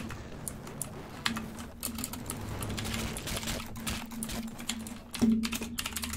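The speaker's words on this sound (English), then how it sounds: "I was gonna type something" Rapid typing on a computer keyboard during a Hypixel game session, a quiet, uneven stream of close key clicks with short pauses and no speech.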